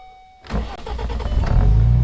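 A Morgan with a 3.7-litre V6 is started with the key: a short cranking burst kicks into a steady, loud idle that carries on alone, close to the car.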